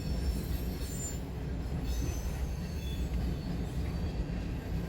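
Westbound manifest freight train passing in Fremont, Nebraska, with a loud continuous rumble of rolling cars and high thin wheel squeals drifting in and out.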